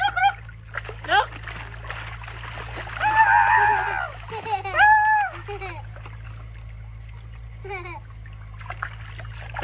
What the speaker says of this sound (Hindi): तभी मंकी नहा लिया है बिल्कुल, देख रहे